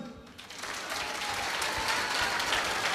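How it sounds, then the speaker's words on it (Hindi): Audience applause at a Hindu religious gathering, a dense sustained clapping from a large crowd that swells after a quiet start and holds steady and loud. "अनिरुद्धाचार्य जी ठोको ताली"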